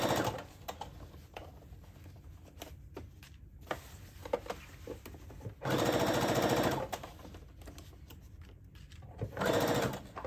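A sewing machine runs a straight stitch at 2.5 length while sewing a color-blocked camisole, whirring in two loud steady bursts with quieter handling noise between them.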